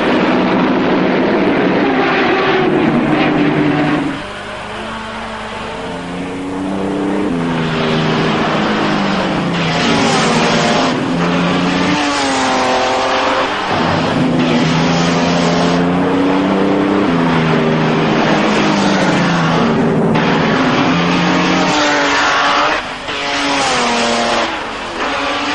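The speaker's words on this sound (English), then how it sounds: "the Mercedes shot into the lead from the start." 1930s Grand Prix race cars, with the Mercedes leading alongside Maseratis, Alfa Romeos and Delahayes, roar loudly and continuously, engines rising and falling in pitch as they pass and accelerate, with no voices.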